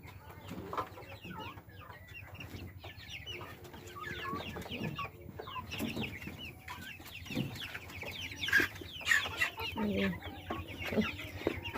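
Tiger-breed chickens cluck steadily while some eat and others rest after a midday feed, many soft overlapping calls near and far, with occasional louder bursts toward the end.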